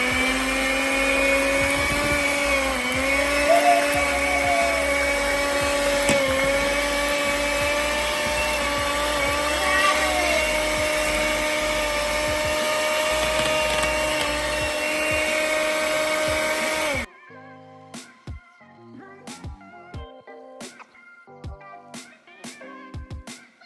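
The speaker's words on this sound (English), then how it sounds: "now we're gonna take our egg yolks and our cream cheese and we're gonna beat it up" An electric mixer beats egg yolks and cream cheese for a carnivore cake. It whirs as a steady, loud motor drone for about seventeen seconds, then stops. Scattered clicks and knocks follow.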